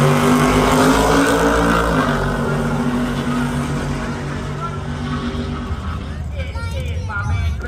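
A 1966 Chevelle with a 560 engine launches at a Pro Stock Trans Am drag race alongside another car, engines roaring loud and steady before easing off, with a track announcer talking over the noise.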